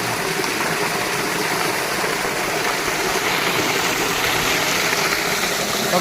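Water gushes steadily into a farm tank during garlic planting, a constant broad rushing and splashing roar with no pauses, close and fairly loud.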